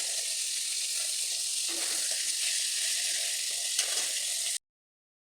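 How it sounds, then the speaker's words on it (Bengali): Oil sizzles and crackles loudly and continuously close by as hilsa fish heads fry, with faint stirring scrapes, then it cuts to silence near the end. "খুব ভালোভাবে আমি মরমরে করে মাছগুলো ভেজে নেব"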